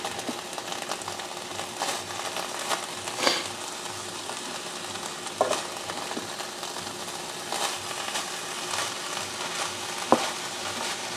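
An egg roll in a bowl mixture fries in a pan with a steady close sizzle while a utensil stirs and scrapes it, with occasional louder clacks through the stretch.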